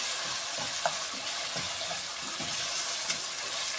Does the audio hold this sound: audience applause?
no